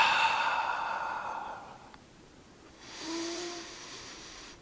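A long, relaxed exhalation during Tai Chi practice, a soft breathy hiss fading out, followed by a quieter second breath and a small click near the end, close and unaccompanied by talk.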